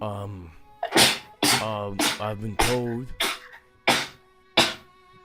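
One sharp sneeze near the start, followed by several people talking back and forth.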